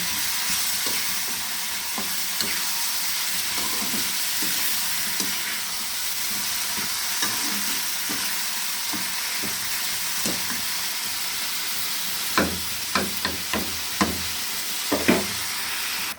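Spice paste frying in a small wok keeps up a continuous sizzle, with scattered spoon scrapes that grow into a run of sharper clacks of stirring near the end.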